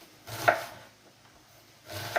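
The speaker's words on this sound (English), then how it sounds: "that will help keep your onion together as you're chopping" A sharp knife chops through an onion on a board with two separate bursts of crisp, close cutting strokes, with a quiet pause between them and no talking.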